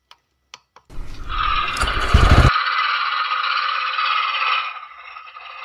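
A TVS XL 100 BS6 fuel-injected moped is started: a few faint clicks, then a loud rattling crank for about a second and a half, settling into a steady buzzing idle close by with no talk.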